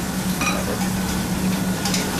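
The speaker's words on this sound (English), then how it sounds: "We're gonna add the spinach. And then just saute that until it wilts." Spinach and shallot sautéing in a pan, a steady soft sizzle with light stirring scrapes running continuously at close range, no voices.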